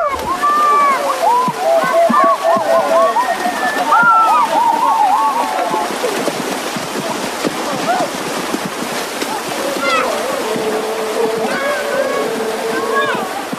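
Men bathing in a small river beside a village, water sloshing and splashing in irregular bursts close by while several voices call and chatter over the top throughout.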